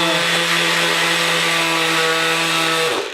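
Mouse sander working wooden edges, a steady loud motor whine with a strong buzzing hum that runs evenly, then winds down abruptly at the end as the tool stops.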